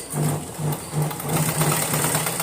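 A sewing machine runs a top stitch along a long frock, its motor whirring in short repeated bursts with a steady high whine above, close and alone without talk.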